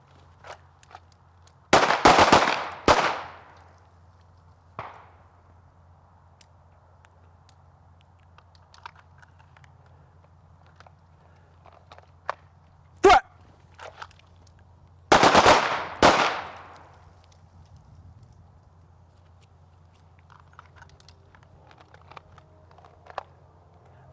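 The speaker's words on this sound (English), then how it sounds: "Good draws, good shooting." Several shooters fire handguns together during a shooting drill, with two clusters of rapid, overlapping sharp shots a few seconds apart and a lone shot between them, loud against a quiet outdoor background.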